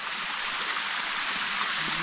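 Rainwater rushes steadily down a small stream in Katurdi village in the Konkan, near Sangameshwar, during heavy monsoon rain. The close, even flow is a continuous wash of water with no voices.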